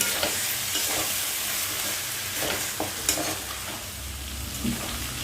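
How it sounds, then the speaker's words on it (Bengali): Mutton pieces are stirred with spices in a frying pan for a home-style mutton curry. There is a steady broadband sizzle throughout, with soft scraping stir strokes recurring every second or so and no voices. "এখন মশলার সঙ্গে ভালো করে নেড়ে চেড়ে মিশিয়ে নিচ্ছি।"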